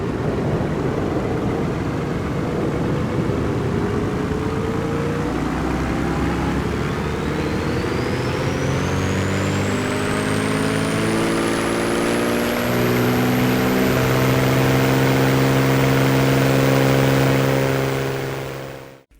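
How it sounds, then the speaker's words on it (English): Turbocharged piston engine of a Black Square A36TC in Microsoft Flight Simulator on takeoff, a loud steady drone building in power with a thin turbo whine rising higher and higher until it fades out at the end. "And let's not forget that oh-so-sweet turbo whine on takeoff."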